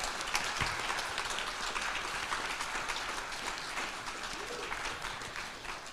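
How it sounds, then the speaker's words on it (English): An audience at a panel event applauds steadily, a dense, fairly quiet wash of many hands clapping heard from a distance, continuing evenly throughout. "I'd like you to give JP a round of applause because he did this"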